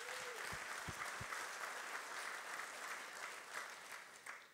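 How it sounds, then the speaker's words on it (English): Applause from a church audience during a sermon, a broad continuous patter of many hands heard at a distance and fairly quiet, with a few sharp close knocks early on and the clapping tapering toward the end. "So can you just give God a round of applause"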